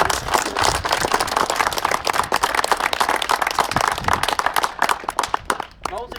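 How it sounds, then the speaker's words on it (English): An audience claps in a round of applause, a dense burst of close, loud clapping that thins out toward the end. "Right, round of applause."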